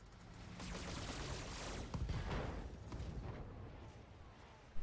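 Mech weapons firing in the BattleTech video game, a dense run of rapid gunfire bursts and booms that swells in the middle and trails off, with a sharp hit right at the end.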